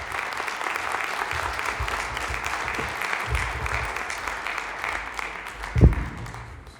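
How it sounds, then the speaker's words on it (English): A hall of fame induction ceremony audience in Kettering gives sustained applause, a dense steady wash of clapping from many hands in a hall. It fades toward the end, with a brief thump near the close. "Let's give him another round of applause, please."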